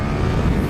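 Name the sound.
2020 KTM Super Duke R motorcycle accelerating in first gear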